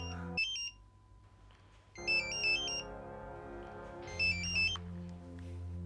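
A phone's electronic ringtone chirps in several bright, repeating bursts over a low, steady background hum, close and clear with no one speaking.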